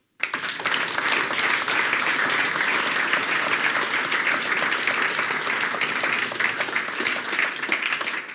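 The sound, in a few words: audience applause for speakers at meetup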